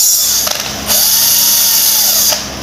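A small power tool cleans carbon deposits off a spark plug on a CFMoto NK400 motorcycle, a loud high-pitched whirring burst that briefly dips and surges again, close up and with no speech.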